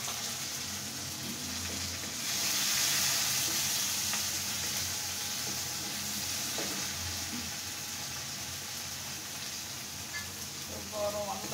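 Black pepper dropped into hot oil in a pan: a steady, close sizzle and hiss with light stirring, continuing evenly throughout.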